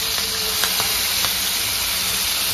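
Prawns dropped into preheated hot oil for a Bengali malai curry give a loud, continuous hissing sizzle with a few faint taps as pieces go in.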